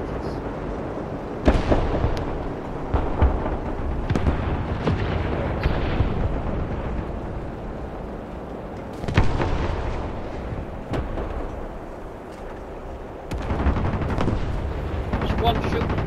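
Shots hit a T-34 tank in War Thunder near a farm and church: repeated loud bangs and booming impacts, some in quick clusters, over steady battlefield rumble, with a player's voice talking at times.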